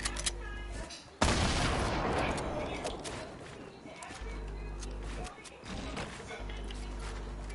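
Bursts of video game gunfire crackle loud and close, with a heavy volley starting near the one-second mark and firing continuing in uneven waves.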